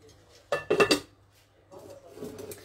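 A saucepan and its lid clatter in a home kitchen in a quick burst of metallic knocks, followed by softer rattling and handling noises.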